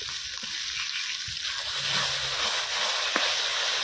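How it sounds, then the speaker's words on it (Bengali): Onions and tomatoes fry in a pan, a steady soft sizzle with faint stirring scrapes underneath, continuous and close, on a rainy day in a village kitchen. "পেঁয়াজ টমেটোকে এখানে একদম সুন্দরভাবে ভাজা হয়ে গেছে।"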